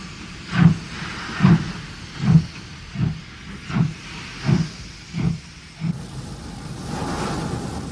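A North British class 2000 steam locomotive on a South African line gives off a series of rhythmic steam chuffs and hisses, about eight evenly spaced bursts, then fades into a steadier broad hiss.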